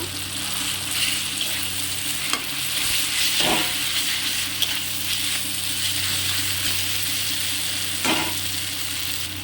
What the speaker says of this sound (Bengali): মশলাটা কষানো হয়ে গেছে তো এর মধ্যে ভেজে রাখা আগে থেকে মূলাটা দিয়ে দেব